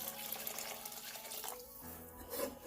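Water poured over lima beans in a pot, a short close splashing pour lasting a couple of seconds, alone with no talk.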